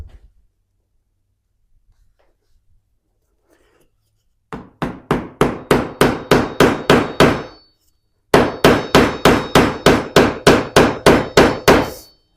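A mortise chisel is struck repeatedly with a hammer and driven into wood for a baluster mortise, two runs of crisp, evenly spaced blows, first about ten and then about eleven, close and loud after a near-silent start.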